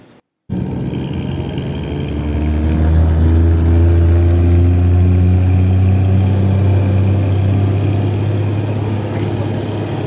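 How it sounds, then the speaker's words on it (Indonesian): A Jeep at the Bromo base camp runs close by with a loud, steady engine drone that holds almost unchanged for several seconds. "Akhirnya setelah penantian yang lumayan lama, Jeepnya datang juga guys."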